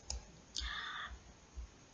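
A computer mouse gives a few crisp, faint clicks spaced about half a second apart, alone in a quiet room with a soft electronic chirp after one of them.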